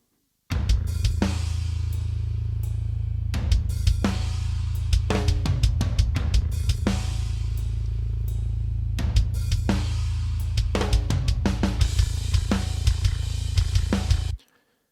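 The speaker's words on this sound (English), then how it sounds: "The drums are Superior Drummer 3 with the new Mark Lewis Death pack, and the bass is Submission Audio Eurobass 2" A metal mix of virtual Superior Drummer 3 drums and Eurobass 2 bass, with a heavy sustained low bass drone under sharp rapid drum hits and cymbal crashes, loud and dense, no voices.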